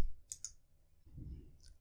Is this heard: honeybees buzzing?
no